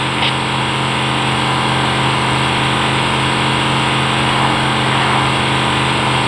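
Warthog vehicle engine from the Halo: Combat Evolved video game, a steady, loud droning hum with a constant low tone that runs unbroken throughout, with no voices.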